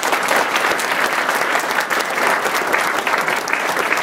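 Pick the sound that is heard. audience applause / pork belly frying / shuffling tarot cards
audience applause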